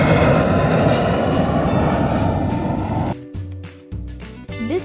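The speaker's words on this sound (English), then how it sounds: "This is an airplane." An airplane engine roars loud and steady for about three seconds, then gives way abruptly to quieter, choppy tonal sounds.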